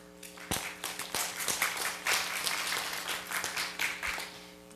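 Audience applause in an auditorium after a talk on the metaverse, gaming and city metabolism is introduced, steady clapping over a low hum with a few sharper claps standing out, moderately loud throughout.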